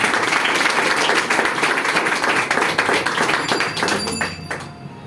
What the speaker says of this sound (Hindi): एक बार अपने लिए जोरदार तालियां होगी